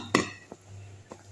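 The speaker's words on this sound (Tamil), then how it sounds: "நல்லா கலக்கிடலாங்க இதை" A few light, scattered clinks of a utensil knocking against a bowl while mixing idli batter for kuzhi paniyaram, quiet and close, with no voices.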